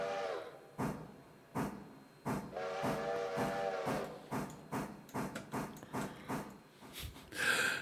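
Train brakes releasing in the Railroader video game: a series of sharp steam hisses and short bursts, some longer, repeating irregularly and fairly loud with a snorting rhythm, no talk.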